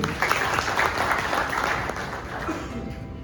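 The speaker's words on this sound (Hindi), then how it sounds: "दोनों संस्थाओं को भी जोरदार तालियां मैडम के लिए" A crowd gives a dense, steady round of applause for a woman at a one-day capacity-building program on biomass pellet manufacturing. The clapping is loud and continuous throughout, with faint voices underneath.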